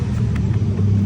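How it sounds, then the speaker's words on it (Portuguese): A Chevrolet Meriva engine idling with a failing, leaking water pump and a loose rotor, heard up close as a steady low rumble with a rough mechanical drone and faint intermittent ticks from the belt area. "fazendo um barulho muito forte na correia"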